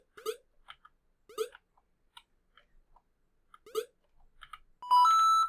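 Sound effects from a MakeCode Arcade platformer game: a few short chirpy blips and clicks in quick bursts with gaps between, then a loud sustained electronic tone rising in steps at the end.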